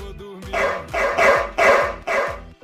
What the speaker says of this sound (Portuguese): O carro que late quando aperta aqui.